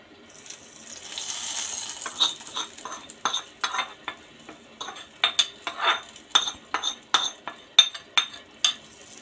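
A spoon clinks and scrapes against a bowl in a quick irregular rhythm as spice tempering is stirred into wet raita, close and fairly quiet.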